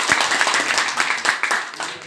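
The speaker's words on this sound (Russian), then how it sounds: "Бурные аплодисменты" Audience clapping at a Russian-language mini master class, a dense patter of many hands with scattered sharper claps, steady and moderately loud throughout.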